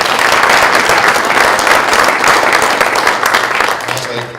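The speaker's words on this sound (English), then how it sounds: "let's give another round of applause" Sustained applause from an audience at a chamber of commerce post-legislative forum, a steady dense wash of clapping that holds loud, then tapers near the end.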